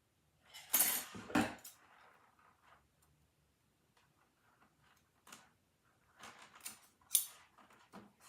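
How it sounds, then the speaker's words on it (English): Scissors cut a length of flexible plastic sewing boning, giving a couple of crisp snips near the start and more sharp clicks later, close and sparse against near silence. "go ahead and cut 6 inches of boning"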